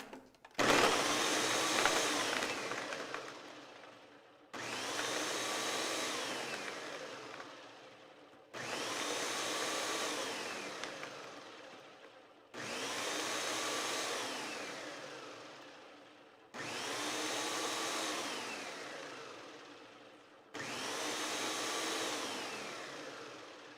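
Ninja blender run in repeated pulses, six loud motor bursts of about three seconds each with short gaps between them. Each burst starts hard and winds down as the blades churn the contents, with no voices.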